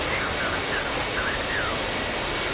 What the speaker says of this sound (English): See the afterburner kicked in.